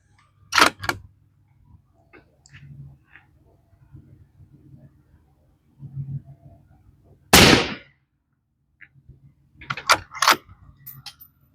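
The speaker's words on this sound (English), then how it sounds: "Just gonna go ahead and shoot a group." A Tikka T3X Hunter rifle in .243 Winchester firing at a range, three sharp, loud cracks spaced several seconds apart with quiet handling noise between, the last shot followed by quick metallic clicks.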